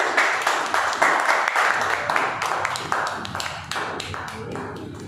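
Audience at a Toastmasters club meeting applauding to welcome the general evaluator, a brisk, uneven patter of clapping hands from a modest indoor group, close and steady, gradually thinning toward the end.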